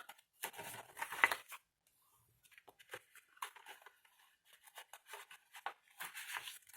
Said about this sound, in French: Sur les côtés, vous marquez aussi les plis.